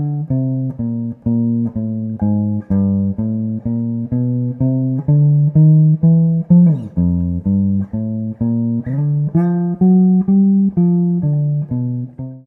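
Jazz guitar plays a walking bass line alone, a steady stream of evenly spaced single plucked notes moving step by step, clear and close, with a brief slide or chord-like smear partway through.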